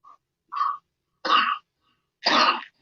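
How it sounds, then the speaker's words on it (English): Three short, dry coughs spaced about a second apart, close and fairly loud, with silence between them. "I was kind of coerced into coughing there"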